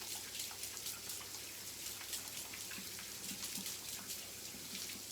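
A kitchen tap runs steadily while hands are washed beneath it before cooking pork belly, giving a continuous close splashing hiss with small irregular spatters and no talking.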